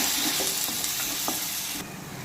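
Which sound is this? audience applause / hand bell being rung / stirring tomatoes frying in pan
stirring tomatoes frying in pan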